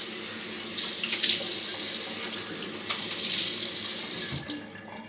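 Water runs steadily from a tap into a sink to wet the face for a shave, a close, continuous splashing hiss that surges slightly, with no talking.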